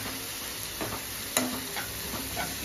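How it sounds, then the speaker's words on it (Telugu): Spinach with turmeric fries and is stirred in a pan, a soft continuous sizzle with a few light scraping knocks of the spoon, quiet and close. "ఒక 2 మినిట్స్ ఫ్రై అయితే చాలు"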